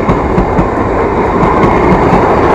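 A train rolls past close by, a loud, continuous rumble with rhythmic clickety-clack from the wheels and no voices over it.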